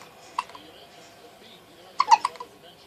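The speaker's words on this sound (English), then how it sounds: "Both of these poor boys got the hiccups." Two-week-old twin baby boys hiccup, a single soft hiccup followed by a quicker cluster of small hiccups and squeaks, close and quiet against a still background.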